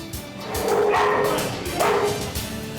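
Puppies bark and yip in a few overlapping bursts at moderate distance, with faint background noise and no clear talk.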